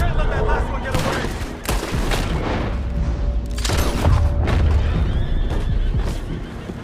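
Horses neigh and whinny loudly in Red Dead Redemption 2, with several sharp cries amid gunfire bursts, booms and hoof clatter during a tense action scene.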